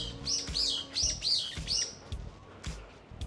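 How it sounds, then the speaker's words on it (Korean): Several bright, repeated chirps from a bird close by in a park in Guro, Seoul, in quick bursts with short gaps and faint outdoor background. "새가 우는 소리를 좀 들어보고 싶네요"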